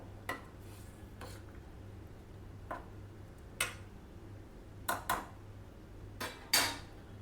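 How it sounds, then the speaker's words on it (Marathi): Paneer being mixed in a pot for a brinjal and paneer curry, heard as sparse spoon clinks and scrapes against the metal pot, a few sharp taps spaced apart with quiet pauses between, close by and with no talking. "आणि हा पनीर छान मिक्स करून घेऊया"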